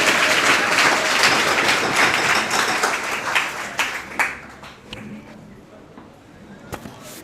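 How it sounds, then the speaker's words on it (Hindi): An audience applauds to welcome Subhash Dwivedi, presiding guest, onto the stage at an event: dense clapping, loud at first, thins into scattered claps and fades toward the end. "आप ताली बजाकर स्वागत करिए सर"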